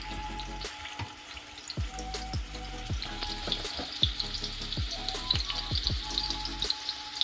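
Burger patties sizzle loudly in a hot pan, a steady crackling fry broken by repeated metallic scrapes and taps as more patties go in, with no talking.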